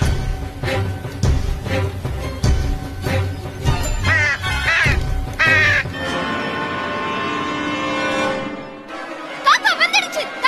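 Cartoon crow caws in an animated children's story, several harsh calls mixed with music and character voices, with more cawing near the end.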